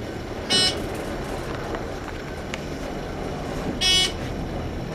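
A Thyssenkrupp ISIS 2 elevator running in Lane Stadium at Virginia Tech, with a low steady mechanical rumble and two short high-pitched squeals from the ropes about three seconds apart.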